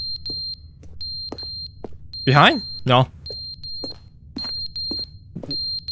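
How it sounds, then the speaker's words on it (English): Fire alarm in The Stanley Parable Ultra Deluxe beeping at a regular pace, short high chirps repeating about once a second. Someone speaks briefly and there are other noises. "Fire alarm? Was it always there?"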